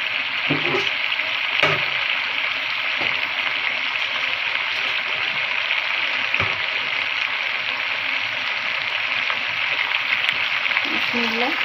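Water pours into a pan of beef and potato curry, producing a steady, hissing sizzle and rush that continues evenly, with a few soft knocks.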